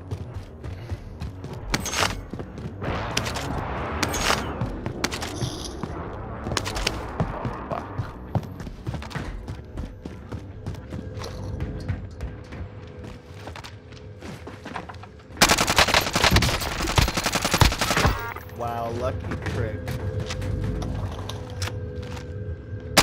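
Gunfire in the video game Call of Duty: Warzone, with sharp shots and automatic bursts scattered through the clip, a loud dense volley later on, plus game sounds and footsteps.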